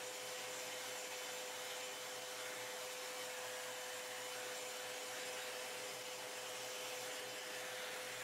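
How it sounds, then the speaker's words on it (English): A vacuum cleaner runs steadily while cleaning the pieces of an Astro A50 headset, a constant whooshing drone with a faint tonal hum and no variation throughout. "we'll start by vacuuming off each piece."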